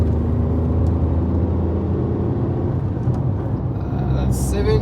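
A Tata Tiago hatchback accelerates while merging onto a highway, its engine note droning steadily under loud road and wind roar, with a brief higher whoosh near the end.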